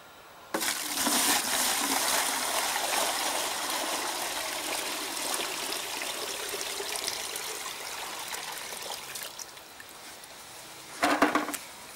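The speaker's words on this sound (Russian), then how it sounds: "Наливаем воду." Water is poured into a container to test a sealed patch for leaks, a continuous close splashing gush that runs for several seconds, with a few louder splashes near the end.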